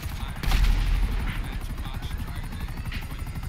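Gunfire and aircraft in Grand Theft Auto V during The Prison Break mission: a loud burst of shots near the start, then a continuous helicopter-like engine drone with scattered crackling fire.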